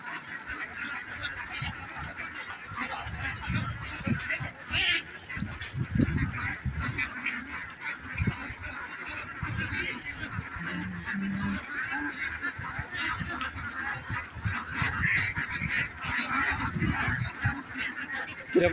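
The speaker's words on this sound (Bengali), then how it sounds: "আজ এসেছি চুয়াডাঙ্গার একটা হাঁসের খামারে। সম্পূর্ণ হাঁসের খামারটি অনেক বড়। এখানে প্রচুর হাঁস রয়েছে।" A large flock of ducks at a big duck farm in Chuadanga, Bangladesh, a dense continuous chorus of overlapping quacks and honks, moderately distant, with faint background murmur.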